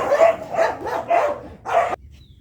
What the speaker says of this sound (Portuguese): depois da briga dos cachorros